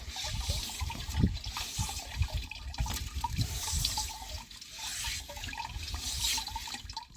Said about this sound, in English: out the way of the holes in the sieve to let the little stuff in water fall through